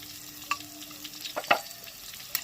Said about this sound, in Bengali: এবার এই আলু আর পেঁয়াজটাকে খুব ভালো করে ভেজে নেব